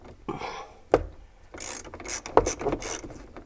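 Swivel-head ratchet working a socket during Jeep TJ HVAC assembly, giving a few bursts of close, dry clicking with sharp knocks between them and no talk.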